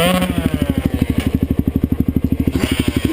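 A motorcycle idles close by with a steady, lumpy pulse of regular low thumps, slightly rougher near the end.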